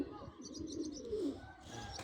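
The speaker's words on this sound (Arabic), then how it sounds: "طلعت الطيور برا." Birds let out of their coop outdoors give soft cooing and short chirps, fairly faint and close, with low background murmur around them.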